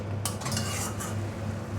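A utensil scrapes and clinks against a pan as khesari greens are stirred, over a soft background hiss of frying; brief and close.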